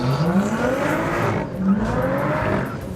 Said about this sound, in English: the most audible change is the sports exhaust system, as you can hear here